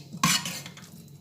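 Cooked ghugni, a spiced dried-pea curry, is scooped from a pan into a bowl, with one loud utensil clatter near the start followed by softer scraping and clinking.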